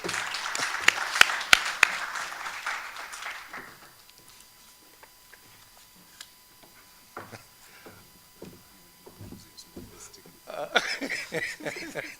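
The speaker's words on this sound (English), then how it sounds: "Let's welcome with a round of applause." An audience gives a round of applause to welcome a speaker, loud dense clapping at first that fades out, a stretch of scattered sounds and light tapping, then a second burst of clapping near the end.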